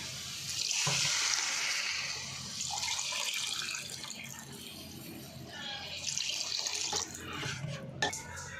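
Water runs and splashes steadily into a cooking pan of dry fish curry for several seconds, a broad hiss with brief pauses and a few clinks.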